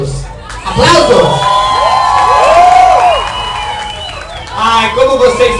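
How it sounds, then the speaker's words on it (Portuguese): Inside a nightclub, Boate Metrópole, a loud crowd during a drag show cheers, whoops and shouts, with high voices rising and falling over scattered applause and a speaking voice at the start and end. "Vai lá, aplausos. Aplausos!"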